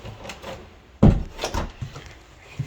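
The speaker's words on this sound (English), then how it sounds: "Shut the door because my wife is sleeping." A house door is pushed shut with one solid thunk, followed by a few softer knocks and rattles as it settles, close by in a quiet room.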